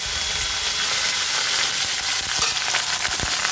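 Dried red chilies and curry leaves crackle in hot oil for a sambar tempering, a dense, continuous sizzle with scattered pops, close and loud with no talk.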